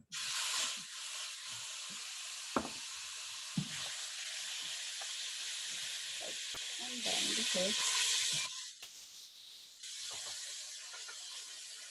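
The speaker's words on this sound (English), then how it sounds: "Now I'm gonna stir fry the meat." Meat sizzles and hisses steadily in a hot pan as it is stir-fried for Korean bibimbap, with occasional stirring scrapes and brief pauses in the frying.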